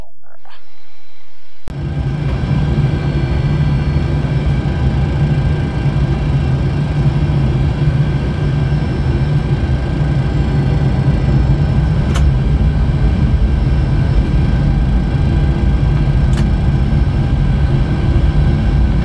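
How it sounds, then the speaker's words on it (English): Engines of a Boeing 737-800 roar in a flight simulator video game, a loud sustained low rumble that kicks in abruptly and holds steady with a constant whine for the rest of the stretch, with no talk over it. "I'm gonna disconnect the microphone so you can hear the engine roar."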